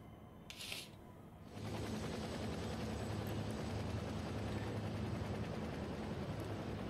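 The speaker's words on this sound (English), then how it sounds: "That helicopter's still in the air," Helicopter in the racing game Gran Turismo 7 flies low overhead, its rotor a sudden loud, steady thrumming roar that cuts in after a quiet start and holds constant, with no speech.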